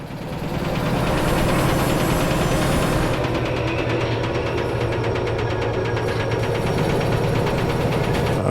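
A damaged locomotive engine in the Derail Valley train simulator runs with a rough, rapid mechanical knocking and a steady low drone, loud and continuous.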